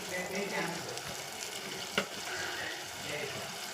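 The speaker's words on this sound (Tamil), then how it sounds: "இப்போது புளி கரைச்சலை தூக்கி அதில் ஊற்றிக்கலாம்." Tamarind water poured into a hot pan of sautéed tomatoes, giving a continuous loud sizzle and bubbling hiss with a brief splash midway.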